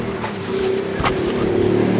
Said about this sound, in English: you can hear my kids going by on our go-kart and our four-wheeler